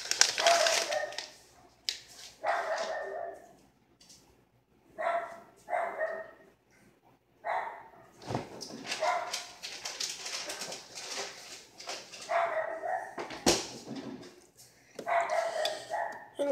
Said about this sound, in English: That's the dumb dog, Coco.